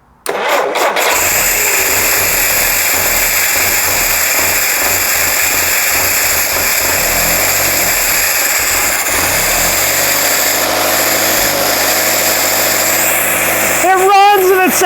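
A Jeep CJ5 engine fires up for the first time after a rebuild and keeps running loudly and steadily close by, with a rough, pulsing idle and a brief rev near the end, while people talk over it.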